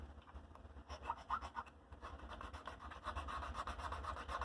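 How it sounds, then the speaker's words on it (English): A file rasps against a plastic model part in soft, repeated scraping strokes, quiet and close. "Now I've filed this a little bit. I need plastic to plastic. Let's file this one again."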